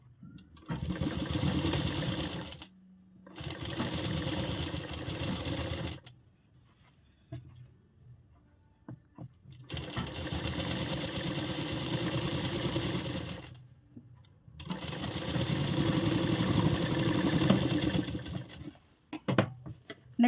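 A sewing machine stitches along the neck of an umbrella frock in four long, loud bursts separated by short pauses, close and alone with no talk.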